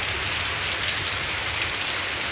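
Heavy rain pours steadily onto surfaces around a house, a dense, continuous hiss of drops, fairly loud and close with no voices.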